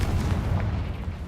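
A Confringo fire spell in the Hogwarts Legacy video game goes off in a brief, heavy, booming blast with a low rumbling body, over about a second and a half.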